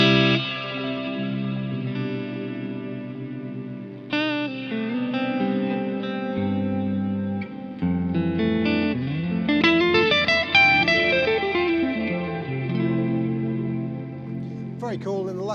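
Electric guitar through a Boss DD-500 digital delay pedal set to the Canyon delay preset, with sustained notes, bends and flurries of phrases blooming into long echoing repeats, played alone and fairly loud.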